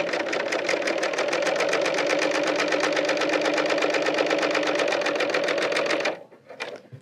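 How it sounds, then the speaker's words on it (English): A Bernina L890 serger runs at a steady high speed, a loud continuous rapid mechanical rattle of stitching fabric that holds for about six seconds and then stops abruptly, followed by a few faint handling clicks. "And now I'll serge again."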